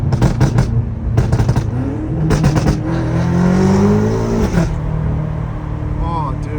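A straight-piped BMW M5 revs and accelerates, the loud exhaust rising in pitch through a long pull, with bursts of crackle near the start and a short voice toward the end.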